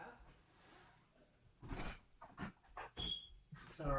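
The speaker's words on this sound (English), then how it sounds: "Sorry, barking dogs there." A handful of short dog barks come in irregular bursts, faint and somewhat distant, after a quiet start.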